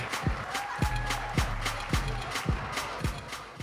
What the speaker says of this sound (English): Ladies and gentlemen, a nice big round of applause.